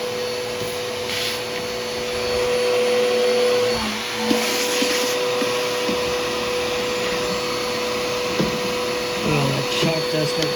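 A Sanitaire SC679J upright vacuum cleaner runs upstairs with a loud, steady whine and drone, swelling slightly as it pushes across the floor, with brief bumps and knocks.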